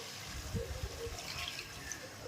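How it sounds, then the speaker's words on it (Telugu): A short, soft rush of water poured into a fish curry pot over high flame, steady and fairly quiet, with a faint voice in the background. "కొంచెం నీళ్ళు వేసుకుందాం"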